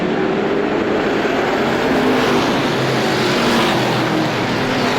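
Strictly Stock cars race on track just after the green flag, engines roaring loud and close, swelling and fading as the pack accelerates past.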